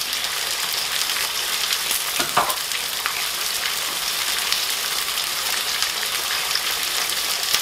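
Beef sizzling and frying steadily in a hot pan as lime is added, a dense continuous hiss with a brief louder burst partway through, close and loud with no talking.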